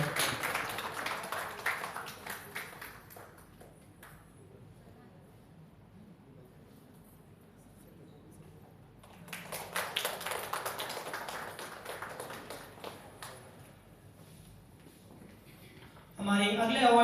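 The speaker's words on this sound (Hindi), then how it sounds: "दो तालियां हो जाए उनके लिए" Applause breaks out twice in an audience at an International Women's Day award ceremony, short bursts of clapping at moderate distance, with talk between and over them.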